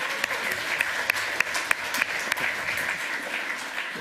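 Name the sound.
audience applause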